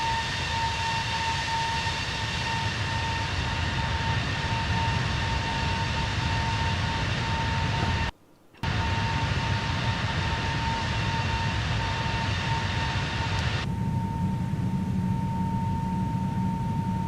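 Airbus A321neo engines after takeoff, a loud, continuous roar and whine heard from inside the cockpit, steady throughout with a brief dropout, no talk.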